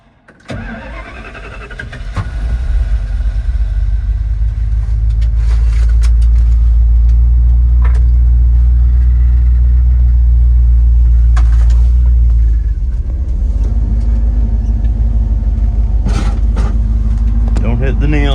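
A 1970 Ford Maverick cranks and starts in cold, snowy weather after sitting unused for about two weeks, then settles into a loud, close, deep rumbling idle that holds steady, with a brief dip partway and occasional faint voices.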